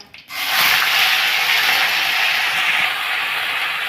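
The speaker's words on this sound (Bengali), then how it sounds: "তেলটা গরম হয়ে গেছে গোটা জিরে অল্প হিং কারি পাতা পেঁয়াজ বাটা" Cumin seeds, hing, curry leaves and onion paste hit hot oil, and after a brief quiet a loud, sudden sizzle bursts up and holds as a steady, close hiss, with no one talking.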